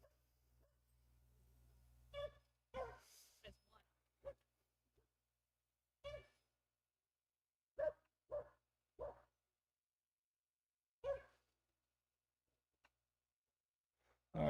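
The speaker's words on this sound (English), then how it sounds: "that's a dachshund who is also very close." A dachshund barks in short, scattered yips and woofs, some close and loud, others softer, in quiet night surroundings with gaps of silence between.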